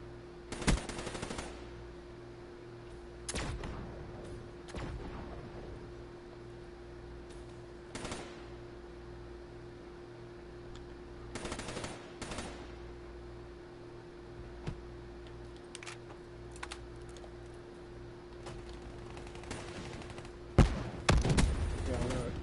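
Bursts of automatic fire from the L-CAR pistol in Black Ops 3, several short volleys spaced through a steady background hum, with a player talking over parts of it.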